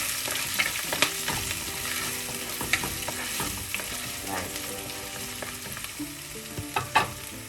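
Garlic, ginger and green chillies frying in oil for a pepper sardine dish, a steady close sizzle under repeated scraping stirs of a spoon across the pan.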